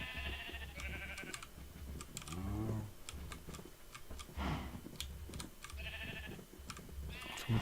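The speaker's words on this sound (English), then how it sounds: "we could just kill these 4 sheep" Sheep bleat in a Minecraft-style UHC survival game while building a starter house, with several wavering calls around the middle and end mixed with steady clicking and tapping.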